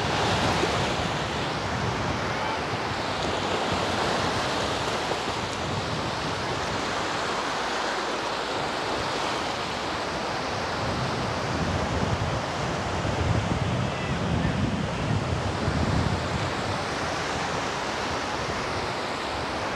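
Steady surf rolling onto the beach at Vityazevo, Anapa, on a calm clear day: a continuous, fairly loud broadband wash of waves with gentle swells in intensity and no distinct voices.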